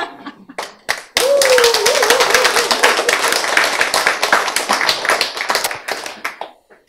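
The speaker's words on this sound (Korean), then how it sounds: "자 여러분 박수를 크게 치시면" An audience at a small church concert claps loudly after a few scattered early claps, the crisp dense clapping running several seconds with a voice over it before thinning out.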